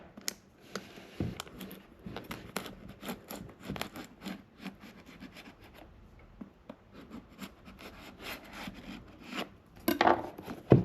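A blade scrapes and slices through the seal on a Lenovo Legion Go handheld gaming PC box, a series of faint, scratchy rubs and ticks close by, ending in a brief louder rasp.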